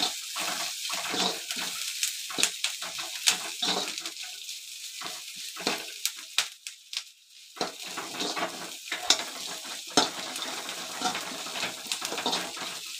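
Onions frying in a pan for a Tamil pudalangai kootu, with a steady sizzle broken by repeated scraping and clinking stirs of the spoon. The sound is close and moderately loud, and no one speaks.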